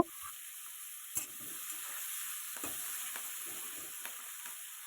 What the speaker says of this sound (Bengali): লবণ হলুদ দিয়ে চিংড়িটি একটু ভেজে নেব